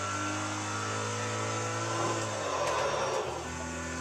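Car engine revving in the racing video game Test Drive Unlimited 2, a steady, deep, droning engine note with a slight pitch rise and dip near the end, fairly faint and without talk.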